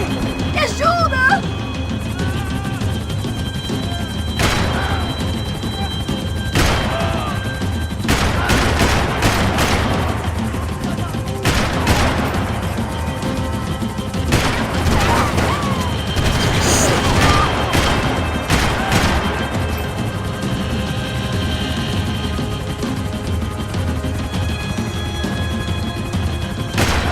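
Gunfire in a Max Payne 3 shootout during a vehicle chase: loud irregular bursts of shots crack out repeatedly over a constant rumbling bed, with voices talking between them.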